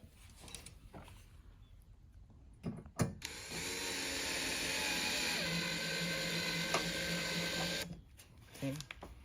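Power screwdriver driving a ground screw into a 65-inch TV chassis, a steady whirring motor for about four seconds, with quiet handling clicks and a voice before and after.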